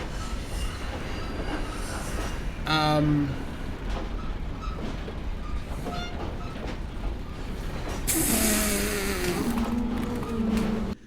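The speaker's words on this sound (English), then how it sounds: "We have to push an old train cart out of the way with our car" Old train cart shoved along rails by a vehicle in the video game Metro Last Light, heavy rumbling with metallic screeches and wheel squeals, steady and fairly loud, with speech throughout.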